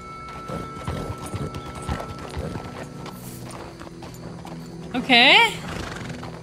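A horse in the video game Red Dead Redemption II: soft hoof clops under game sounds and a person talking, then a loud, close whinny rising and falling near the end.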